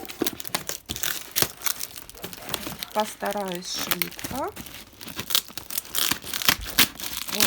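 Packaging crinkles and tears in rapid bursts, plastic and tape rustling up close while a person briefly speaks.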